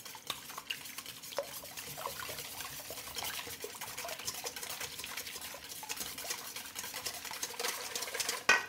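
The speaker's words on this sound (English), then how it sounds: "now using your egg beater, get a bit of a whisk on" Eggs and almond milk being whisked with a hand-cranked egg beater, a steady rapid clicking and stirring rattle that runs continuously throughout, close and moderately loud with no talking.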